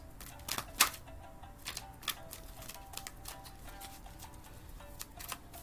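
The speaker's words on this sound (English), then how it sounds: "I think it's me and my shuffling." Cards shuffled by hand during a card reading, quiet and close, with irregular light clicks and snaps spread through the clip.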